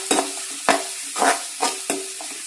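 Finely chopped onions frying in oil for a pork liver fry, a close sizzle punctuated by four or five sharp stirring scrapes at a steady pace.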